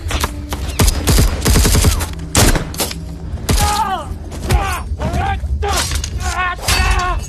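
Rapid bursts of gunfire crack through an action-film firefight, with automatic volleys, impacts and thuds alternating with shouted voices, loud and close.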